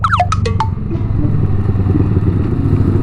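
A Yamaha R15 motorcycle engine drones loudly and steadily while being ridden, with a few quick, sharp clicks and brief whines near the start as gears are shifted, no voices over it.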